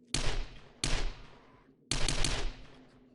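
SMG fire in 7 Days to Die on PS4, three loud close bursts of rapid shots, each cutting off sharply, separated by short pauses.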